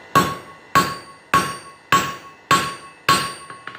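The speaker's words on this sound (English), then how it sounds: "forging down the leaf shape" Hammer blows forging hot steel down into a leaf shape on an anvil, six sharp ringing strikes at a steady, even rhythm, each one loud and close, with no talk.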